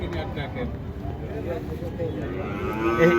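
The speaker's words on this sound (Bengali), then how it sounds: "এই সব সিন্ধি গরু সব সিন্ধি" Sindhi cattle at a busy traditional cattle market, a low moo rising beneath constant crowd chatter and nearby voices, growing a little louder toward the end.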